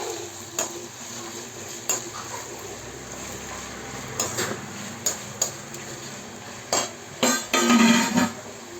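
Onions frying in a pan for mango rice, a gentle steady sizzle punctuated by crisp metallic scrapes and taps of a ladle, the stirring growing busier and louder near the end.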